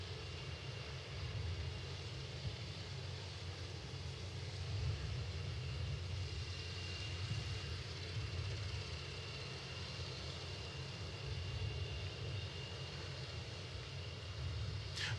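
Boom XB-1 supersonic jet in flight over Mojave, California, a faint, steady low engine roar heard from a distance, unbroken and without speech.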